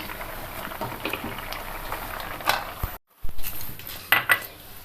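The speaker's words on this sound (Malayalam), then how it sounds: "കൂർക്ക തീയിൽ നന്നായിട്ട് തിളച്ചിട്ടുണ്ട്" A pot of koorka (Chinese potato) curry simmering on the stove, a soft steady bubbling broken by a short gap and a few light clinks of utensils against the pot.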